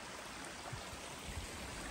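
Water from a stream flows steadily at a trail water source on the Appalachian Trail, a continuous broadband rush that holds close and even throughout with no voices.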